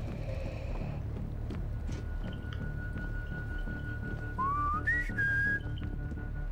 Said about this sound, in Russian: Что за свист?